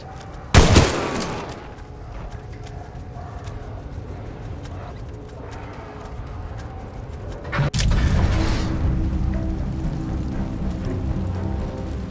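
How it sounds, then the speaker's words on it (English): Suppressing gunfire in the Titanfall 2 video game starts with a loud, close burst, then continues as a steady rattling wash, with a second heavy burst later giving way to sustained rapid fire. "Suppressing fire. Keep him pinned."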